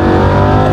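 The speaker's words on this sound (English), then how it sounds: "Down shifts are like boom." A Lamborghini engine roars loud and close during a quick downshift, giving one brief, steady burst of revving.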